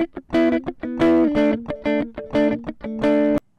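Cubase crossfade audition replaying a short stretch of guitar audio with two seconds of pre-roll and post-roll around the fade, heard as choppy plucked and strummed notes with small gaps, ending abruptly.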